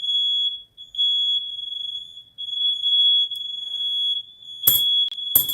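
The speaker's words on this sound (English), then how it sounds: "Fire alarm's going off." A smoke detector fire alarm sounds indoors with a loud, sustained high-pitched tone broken by short gaps, while a few brief rustling knocks sound near the end.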